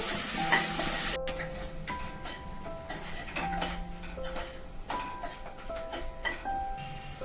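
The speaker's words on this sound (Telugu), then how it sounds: "వీటిని అయితే బాగా వేపుకోవాలి" Onions and green chilies fry in a pan with a tempering of spices: a busy sizzle under frequent scraping stirs and several bright, ringing clinks of a utensil against the metal.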